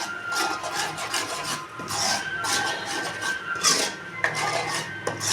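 Paneer gravy with coconut stirred in a pan, a spoon scraping and rubbing against the metal in repeated strokes, close and fairly loud, without talk.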